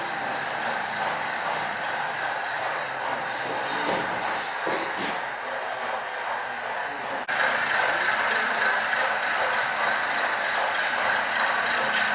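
A steady mechanical hum and rattle comes from an HO scale model coal train winding around a layout. It stays close and constant for the whole stretch, with a faint shift partway through.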